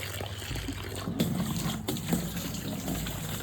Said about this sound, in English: Just unscrew it, turn the water on.